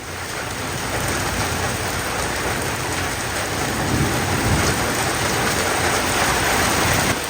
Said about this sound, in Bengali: সেই বৃষ্টি হচ্ছে সকাল থেকে